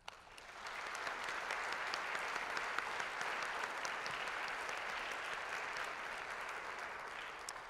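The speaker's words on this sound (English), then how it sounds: "Please join me in giving them a round of applause." Audience applause at an evening lecture in a global lecture series, a steady even wash of many hands clapping that rises quickly, holds for several seconds and stays moderately distant in a large hall.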